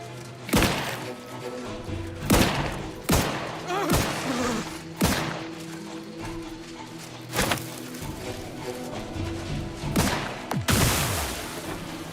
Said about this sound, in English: I feel like that was a pretty decent grenade.